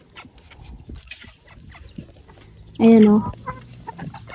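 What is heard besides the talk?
pair of caged bantam (bonsai) chickens clucking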